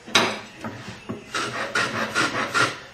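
A tool is worked by hand across the end of a wooden tenon to cut a small bevel, giving a close series of short rasping strokes in an uneven rhythm, each a dry scrape on wood.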